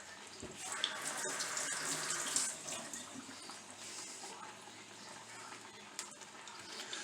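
A pan is rinsed under a running kitchen tap, with water splashing and gushing continuously at low volume, a bit louder at first and then settling.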